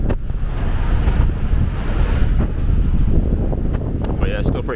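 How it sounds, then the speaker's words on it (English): Strong wind buffeting a microphone on a street in Vietnam, a constant loud rumbling roar with gusts throughout, faint traffic or tonal noises near the end. "it's still pretty windy here"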